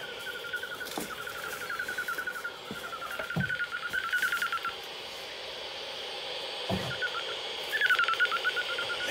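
A bat detector tuned near 111 kHz picks up a lesser horseshoe bat in a steady warbling series of tonal chirps, faint and hissy against crackling background noise, with a few soft clicks and no talking.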